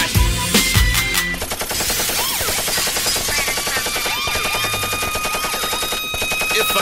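A rap song carries a gunfire effect, a loud, rapid rattle of machine-gun bursts running steadily through the stretch over the beat.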